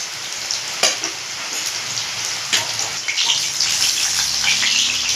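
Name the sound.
cauliflower frying in a pan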